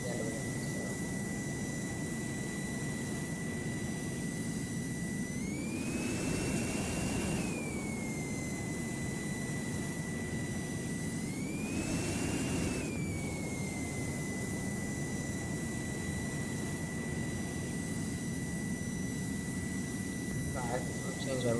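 An F-22 jet engine with afterburners in a flight simulator game, a steady loud roar with a high whine that twice rises in pitch and settles back, running throughout under occasional talk.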